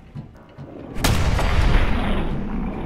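Heavy gunfire booms in the video game Fallout 4, a loud shot followed by a sustained rumbling echo, with a fainter report just before it.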